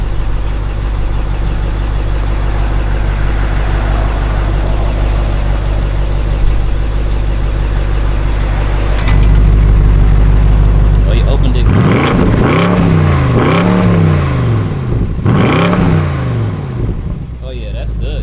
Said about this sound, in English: I'm gonna rev it up for me.